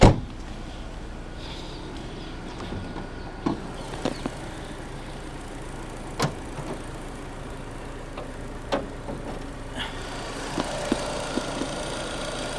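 A 2008 Peugeot 308 VTi 120 with its 1.6 litre naturally aspirated petrol engine idles steadily and evenly, broken only by a few faint clicks and knocks, with nobody speaking.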